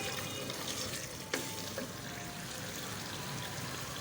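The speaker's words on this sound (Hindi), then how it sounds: "अब हम मज़ीद इसको 5 मिनट अच्छे से भूनेंगे" Masala frying in a cooking pot for a curry, a steady close sizzle throughout with a couple of brief clinks from stirring.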